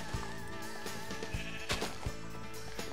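Sheep bleat repeatedly in the Minecraft modpack Agrarian Skies, short wavering calls over a busy layer of background game sound and music, with no talking.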